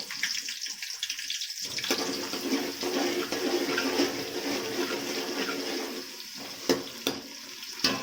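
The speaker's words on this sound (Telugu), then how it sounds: "ఆయిల్ బాగా హీట్ అయింది అందులో మనం ఆనియన్ ముందుగా వేసుకున్నాము" Onions fry in hot oil for a biryani, making a loud, dense crackling sizzle that swells after a brief quieter start and carries on with occasional sharp pops.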